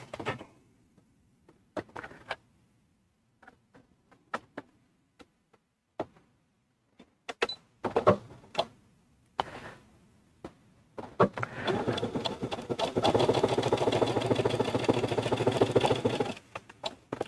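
A domestic sewing machine stitches down the edge of a quilt block. Scattered clicks and handling taps come first, then a steady, close motor whir with a rapid stitching rattle that continues to the end.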